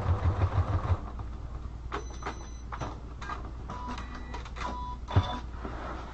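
A sewing machine stitches a spiral notebook cover, opening with a quick run of close, rhythmic needle thumps, then a quieter stretch of handling noises and one more thump.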